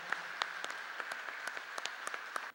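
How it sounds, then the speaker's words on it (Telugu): A congregation at a Holy Mass claps together in steady, fairly quick rhythm, a soft, somewhat distant patter of many hands continuing throughout without speech. "అందరం ఒకసారి గట్టిగా చప్పట్లు కొడదాం మా ప్రభు నామమున."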